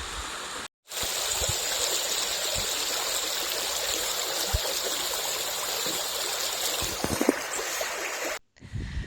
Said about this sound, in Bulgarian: Трябваше да пресичаме реката на доста места.